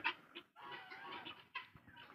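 Lavender guinea fowl call repeatedly from the flock in a rapid, harsh run of scratchy cackling notes, with a brief pause partway through, close by and moderately loud.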